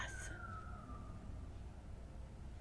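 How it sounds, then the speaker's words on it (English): A police siren outside in a quiet neighborhood gives a brief descending wail at the start, then fades into steady low background rumble. No one speaks over it. "Can you guys hear that siren?"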